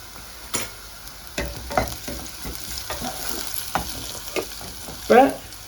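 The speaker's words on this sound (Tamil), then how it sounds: "இப்போ கொஞ்சம் வெந்தயம் சேர்க்கிறேன் குழம்புக்கு." Fenugreek seeds frying in hot oil for a bitter gourd kuzhambu, a soft continuous sizzle punctuated by several sharp clinks and stirring scrapes, close by with no talking.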